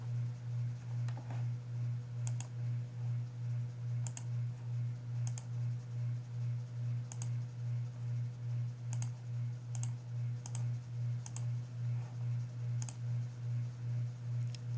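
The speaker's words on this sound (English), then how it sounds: "let's go to the calculator and type this in" Soft clicking key presses on a graphing calculator, a dozen or so sharp taps spaced irregularly over a steady low electrical hum, close and quiet.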